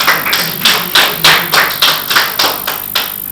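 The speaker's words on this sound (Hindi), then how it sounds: "मेरे स्वागत में पहली बार जोरदार तालियां बजाइए" A crowd at a Hindi poetry gathering claps in steady unison, about ten loud, evenly spaced claps in a row, with no talk.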